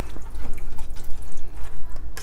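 Two and a half cups of water are poured into a pot of beef yakhni pulao, a close, loud, steady splashing pour with bubbling and a low rumble underneath.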